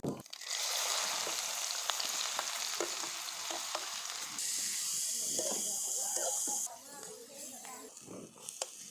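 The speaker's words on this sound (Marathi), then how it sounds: "कांदा मस्त परतून झालाय" Ginger, garlic and onion frying in oil with cumin hiss and sizzle steadily up close, with stirring clatter throughout and a louder burst of steam partway through. A voice talks over the cooking at times.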